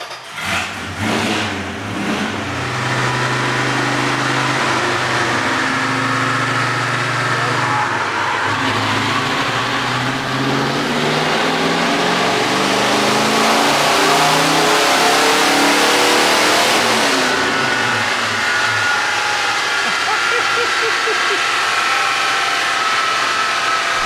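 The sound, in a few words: 1967 Dodge Charger engine revving on a dyno, accelerating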